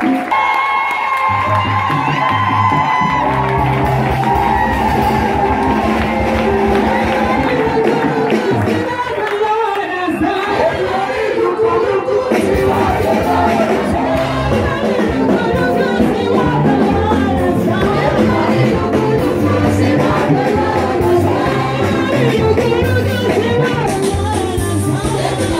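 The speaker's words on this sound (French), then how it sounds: "Acclame Jésus, acclame Jésus." Church congregation acclaiming Jesus with sustained cheering, shouting and whoops, a dense, loud crowd roar lasting throughout with music-like tones underneath.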